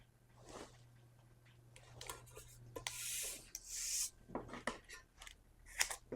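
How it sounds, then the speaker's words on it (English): Handling of 50mm low-tack masking tape, with a run of short rasping tears, rubs and crinkles, some sharp, close and moderately loud, between quieter pauses. "this is the stuff I use, 50mm tape"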